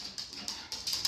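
A puppy at home gives short, high yips and whimpers in quick succession, close by and fairly soft, with no talking over it.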